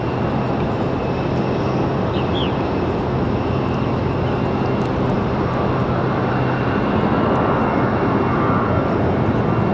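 A Delta airliner departs Raleigh-Durham International Airport for Atlanta, its engines a loud, steady broadband roar that holds for the whole stretch, with no voices.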